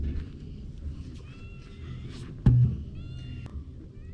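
A cat in a workshop gives a couple of faint, thin meows against a low background rumble, with a single sharp clunk between them.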